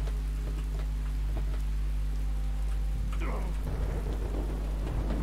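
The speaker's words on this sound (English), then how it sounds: "I know it's hard to hear over the rain, but still." Steady rain in a modded Skyrim game world, a continuous hiss that sits loud and close over soft background music with a low hum, and a brief crackle partway through.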